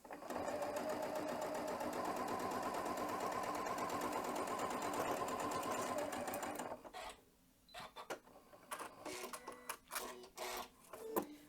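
A sewing machine runs steadily for about six seconds, stitching down both sides of a welt zipper pouch, then stops and is followed by small handling clicks and rustles of fabric.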